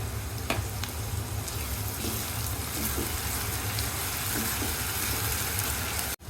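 Sliced onions sizzle in hot oil with green chillies and salt added for a prawn curry, a steady dense frying hiss close by, with faint stirring clinks and no talk.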